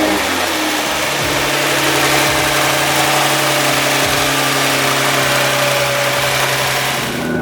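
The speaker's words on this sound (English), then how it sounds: "We'll go ahead and start up the engine and check for any leaks" A turbocharged Nissan GT-R engine runs loud and close, holding a rough, steady idle with a constant low rumble and slight vibration throughout.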